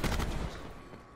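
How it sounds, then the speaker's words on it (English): Gunfire in the shooter game Call of Duty Black Ops 4: a quick burst of rapid shots up front that trails off into a quieter rumbling tail, fairly faint overall. "He accidentally shot me through the wall."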